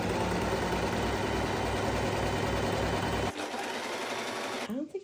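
A serger sewing machine finishes fabric edges with a steady, fast, close mechanical whir that runs for about three seconds, then stops and leaves quiet room sound.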